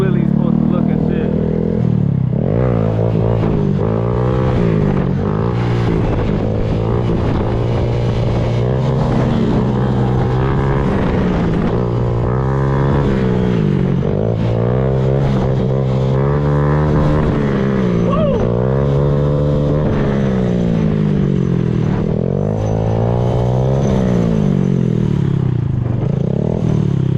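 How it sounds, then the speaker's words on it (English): Motorcycle held in a first-gear wheelie, its engine loud and close with rising and falling revs as the throttle is worked, wind and clatter mixed in, running steadily throughout. "Let me show y'all how a normal wheelie is supposed to look"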